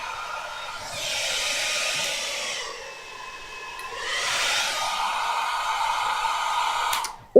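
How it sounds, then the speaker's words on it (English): Hair dryer running on its highest setting from a BLUETTI portable power station: a steady close airy whoosh that swells in two broad surges over a constant motor hum, ending in a sharp click. "this hairdryer is not powerful enough because we were pulling out more than 600 watts total"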